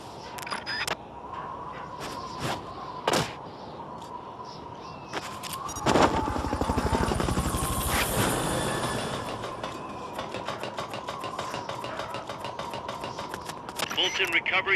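A Fulton recovery helicopter in Metal Gear Solid: Peace Walker, whose rapid rhythmic rotor chop swells in the middle and continues among scattered game clicks and effects, with some voice in the background.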